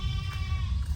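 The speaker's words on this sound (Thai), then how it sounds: "เสียงแพะป่ะ" A continuous bleating call from a goat, fairly loud and close, lasting about a second over low background rumble.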